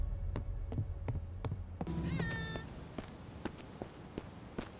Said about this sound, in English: Where's this fucking cat?